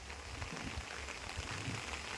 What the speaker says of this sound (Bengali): বন্ধুরা দেখছেন বৃষ্টির অবস্থা